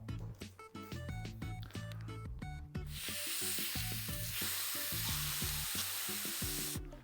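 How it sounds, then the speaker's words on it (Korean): Breath is blown by mouth into an inflatable finger light ball, heard close: a few handling knocks first, then a sustained breathy rush of air for about four seconds. "여기에다가 바람을 불어 넣으면 되는데요. 입으로 불어도 되고 바람 넣는 기구가 있으면 그걸 사용해도 됩니다. 제가 입으로 한번 불어볼게요."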